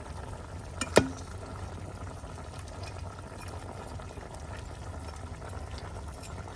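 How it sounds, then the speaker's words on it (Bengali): A pot of fish curry simmers with a steady bubbling boil, one sharp clink near the start, then continuous soft seething. "তরকারিতে জল দিছি তো এই যে বলক চলে আসছে"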